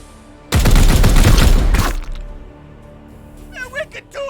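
A short, loud burst of gunfire in the Warhammer 40k Chaos Gate Daemonhunters tactics game, about a second and a half of rapid shots, followed by quieter game sounds and a brief voice.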